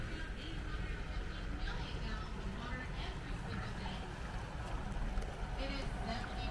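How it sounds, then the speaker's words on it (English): Glass-bottom tour boat gliding past on clear spring water at Silver Springs, a steady low wash and hum filling the scene while people chat nearby. "Oh, here comes the last bottom boat."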